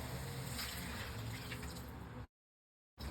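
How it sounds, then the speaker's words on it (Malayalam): Boiling water pours steadily into a pot of chicken for biryani with a broad rushing splash for about two seconds, then cuts to silence before a brief return. "ഇതിലേക്ക് തിളച്ച 1 കപ്പ് വെള്ളം ഒഴിക്കാം."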